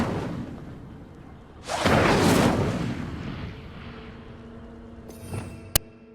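The Incendio fire spell is cast in Hogwarts Legacy: a loud whooshing burst of flame swells, then decays into a rumbling tail, followed by a short sharp crack near the end.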